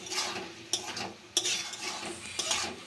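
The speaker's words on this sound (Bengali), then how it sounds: "এখন এই মশলার সঙ্গে ভালো করে আমি এভাবে বেশ কিছুক্ষণ কষাতে থাকবো" Watermelon rind being stir-fried with spices in a pan, with a sizzling bed of frying beneath repeated scraping strokes and sharp clinks of a utensil against the pan.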